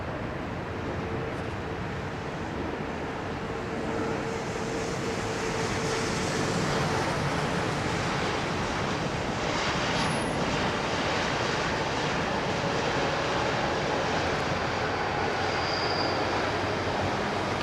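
A British Airways 787 lands at London Heathrow with thrust reversers deployed, giving a long, broad, steady engine roar that swells slightly and holds at a distance, with no voices.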